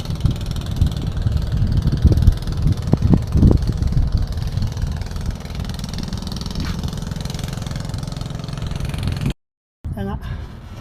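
A fishing boat's engine idles and chugs steadily at sea under overcast, windy conditions, a close, continuous mid-pitched throb with a few knocking bursts early on; the sound cuts out briefly near the end before resuming.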